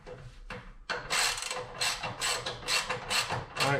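A ratchet wrench tightens a nut holding a wheel on a Predator 9000 watt portable generator, giving bursts of rapid clicking in short repeated strokes, close and moderately loud, with no talking.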